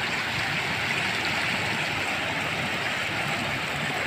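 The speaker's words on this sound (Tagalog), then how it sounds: "Napakalakas ang dating tubig." Floodwater rushes across submerged rice fields in Naujan, Oriental Mindoro, as a continuous broadband roar and gurgle, steady and close, with no voices.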